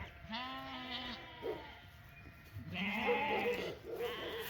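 Weaned lambs in a mob bleat loudly and close by, several overlapping wavering cries in two main bursts with a quieter pause between.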